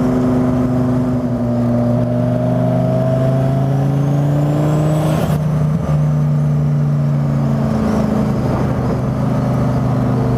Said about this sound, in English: That's a 5th gear pull there.